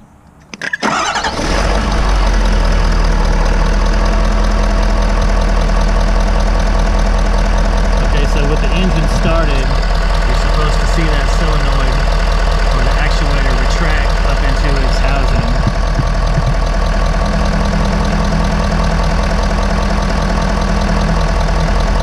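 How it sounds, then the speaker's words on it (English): A 2011 Ford F450 truck engine cranks and catches, then settles into a steady, loud diesel-style idle with a low rumble and a faint ticking knock that continues throughout. "All right, let's start the engine."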